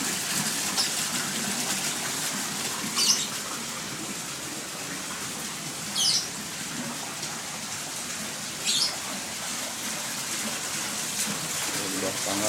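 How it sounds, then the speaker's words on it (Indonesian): A small indoor waterfall under a staircase, built for ornamental fish, pours in a constant gushing splash, with brief louder surges every few seconds. "Air terjun di bawah tangga."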